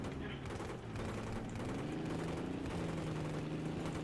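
Automatic gunfire in Battlefield 3 rattles in steady bursts through the whole stretch, loud and dense, with a droning engine-like hum underneath.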